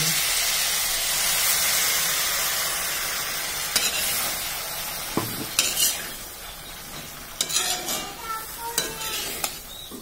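Ground mustard paste tipped into a pan of frying fish, then stirred: a steady broad sizzle underneath, with scattered scrapes and clinks of a spoon against the pan growing more frequent toward the end.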